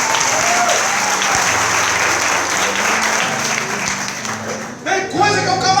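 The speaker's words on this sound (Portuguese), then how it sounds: "Aplauda em nome de Jesus." A church congregation claps together during a Portuguese-language sermon, a loud continuous wave of applause that carries on throughout, with a brief shift near the end as a voice comes in.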